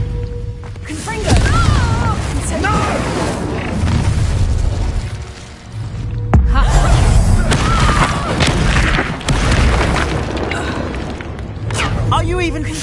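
Confringo fire spell blasts in the Hogwarts Legacy video game: repeated booming explosions and sharp bursts mixed with combat effects and character shouts, loud and close throughout.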